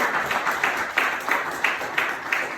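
Congregation at a Spanish-speaking church service clapping together in a steady, even rhythm, many hands striking in unison at a brisk pace, sustained without pause.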